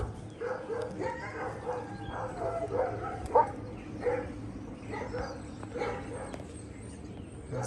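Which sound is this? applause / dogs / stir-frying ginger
dogs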